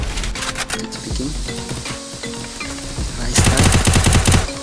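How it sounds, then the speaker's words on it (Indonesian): Gunfire from the Free Fire mobile shooter game during a headshot: sharp rapid shots crackle in short bursts, then a loud dense volley of automatic fire builds toward the end. "yes, headshot by Raistar"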